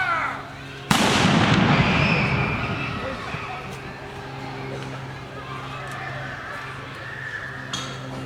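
An artillery piece fires a single loud, booming shot at a Memorial Day parade, its blast rumbling and echoing outdoors for several seconds before fading into crowd ambience.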